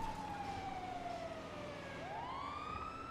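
A police car siren in the GTA video game wails steadily, sweeping down slowly then rising again, loud and continuous with no talking over it.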